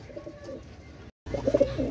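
Pakistani teddy pigeons coo in low, throaty bursts, a male among them, fading briefly to silence and then returning louder and closer with a cluster of soft rolling calls.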